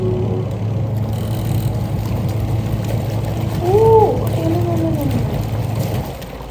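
A Midea 7kg twin tub washing machine's wash timer knob is turned, giving soft ratcheting clicks over a steady low mechanical hum, with a brief whining tone partway through.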